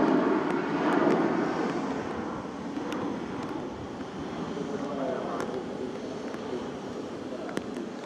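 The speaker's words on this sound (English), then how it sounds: "Privilege style 777 due at 13:49" A Privilege Style Boeing 777 at Manchester Airport produces a broad, steady jet roar, loud and fairly close, with wind noise and voices in the background.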